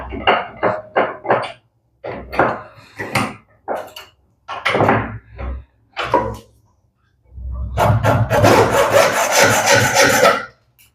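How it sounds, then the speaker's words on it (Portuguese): A hand saw cuts through a metal rivet head in a workshop, with short bursts of strokes at first and then a long, steady run of loud, rasping sawing near the end, close to the listener. "Bem facinho de cortar ela com a serra."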